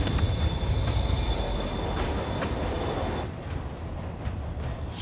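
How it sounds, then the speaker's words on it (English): A train rolls along its track in the Spider-Man Remastered video game, a steady loud rumble of wheels with faint high squeals, the sound thinning slightly after a few seconds as it keeps moving. "Train moving. Lee's getting away."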